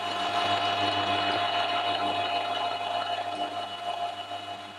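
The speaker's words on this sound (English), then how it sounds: "I'm using the collet block here, and I've just indexed it around by 90 degrees, and we'll just mill a flat on the top there" A milling machine cuts a flat on a small metal part held in a collet block for a spring winder, giving a steady close machine whine with a constant motor hum and fine cutting noise, gradually softening near the end.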